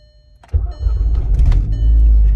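A Volkswagen GTI fitted with a Neuspeed front-mount intercooler, back after an oil leak repair, starts with a short crank and a sudden loud catch, then settles into a strong, close, steady idle.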